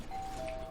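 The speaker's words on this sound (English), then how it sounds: "Oh, a doorbell." Faint electronic doorbell chime heard in the background of a room during a Dota 2 esports broadcast, a thin steady tone sustained under low ambient noise for under a second.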